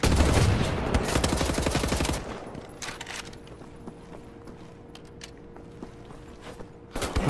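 Rapid automatic gunfire in the shooter game The New Order, a loud dense burst of shots for about two seconds, then quieter scattered mechanical clatter and creaks before another short loud burst at the end.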